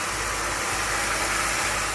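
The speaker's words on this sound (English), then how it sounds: "Sizzling." Meat sizzles loudly in a pan for carbonara, a dense, unbroken close-up hiss that holds at an even level throughout.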